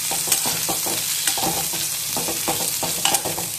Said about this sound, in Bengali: পেঁয়াজ আর কালো জিরেটা একটু ভেজে